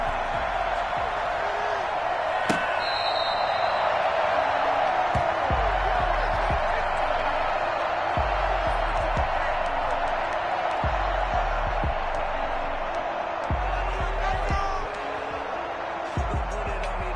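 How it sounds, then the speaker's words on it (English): A stadium crowd roars in a PS5 football video game as the Minnesota Vikings meet the Atlanta Falcons, a loud continuous wash of cheering with thuds and hits beneath a commentator's voice. "This crowd is ready as their guys get set to match up between the Minnesota Vikings and the Atlanta Falcons."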